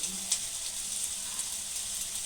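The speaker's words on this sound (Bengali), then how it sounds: "কড়াইয়ের তেল আমার গরম হয়ে গেছে। তো একটা একটা পকোড়া আমি ছোট ছোট করে ছেড়ে দেবো" Small chicken pakoras frying in hot mustard oil in a kadai make an even, bright sizzle, close and steady, with faint crackles popping through.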